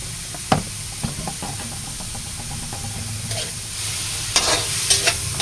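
Chayote sautéing in a pan is stirred with a utensil, producing scraping clanks and a few knocks over a soft, steady sizzle, close by and without talk.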